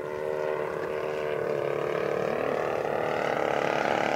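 A Savage Bobber RC plane with a 35cc RCGF gas engine drones steadily in flight, a continuous buzzing motor note that holds fairly loud and even throughout, with no talking.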